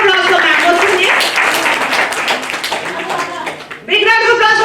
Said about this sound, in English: Big round of applause for ma'am